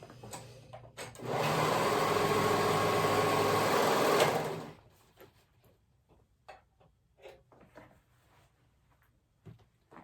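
A sewing machine runs in one steady, loud burst for about three seconds, stitching a short raw edge of romper fabric sewn right sides together. It then stops, leaving faint clicks and handling noises.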